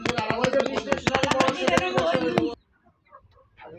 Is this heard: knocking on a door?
no